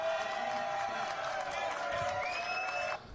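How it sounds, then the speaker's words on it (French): Audience applauding and cheering for guest Richie at a live show, a broad crowd noise with clapping under sustained tones of music or a held note. "Allez, bah, Richie, mon invité, applaudissements, s'il vous plaît."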